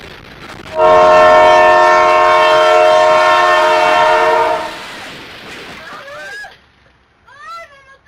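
A locomotive with over two million miles of service sounds its horn in one loud, steady blast of several seconds, followed by quieter chirping sounds as the horn cuts off.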